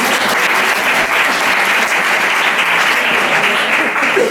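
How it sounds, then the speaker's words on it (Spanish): A room full of people claps loudly and steadily for Lucía at a teaching workshop, an even, dense wash of applause sustained throughout without a break. "Un aplauso para Lucía."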